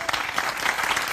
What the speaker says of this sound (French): Sieur Sauzin, qui nous vient du Clos Lucé, que l'on applaudit